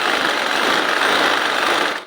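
An electric sewing machine stitches around the hem of a maternity petticoat, a steady, close whirring hum that runs without pause and then cuts off.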